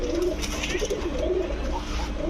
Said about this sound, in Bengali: পাথর চোখের কবুতর